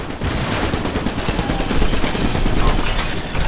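Dense, rapid gunfire from the guns in Iron Brigade, a loud continuous rattle of overlapping shots with a steady rhythmic cadence, close and unbroken for several seconds.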